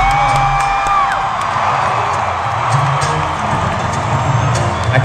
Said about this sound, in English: I kind of figured this was going to be a rowdy crowd.